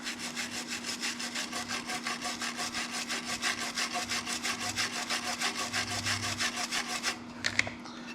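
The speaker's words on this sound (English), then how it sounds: "they include a brass brush. So we just clean that one, and then we'll get in here gently and clean this side too." A brass brush scrubs conformal coating off a circuit board in quick, even back-and-forth strokes, a close, fine scratchy rasping with a steady rhythm under a faint background hum, ending in a few clicks.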